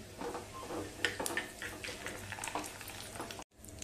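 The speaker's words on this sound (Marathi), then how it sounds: "फोडणी चांगली हलवून घ्यायची." A tempering of mustard seeds, cumin, curry leaves and urad dal being stirred in hot oil, a continuous crackling sizzle with light scraping taps of the spoon, close and fairly quiet, ending abruptly.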